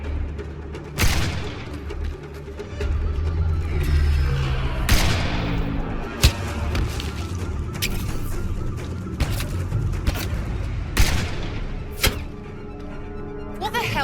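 Gunfire in the video game Mass Effect Andromeda: scattered sharp shots and booms crack out at irregular intervals over a dense battle soundtrack, mixed under tense in-game voices.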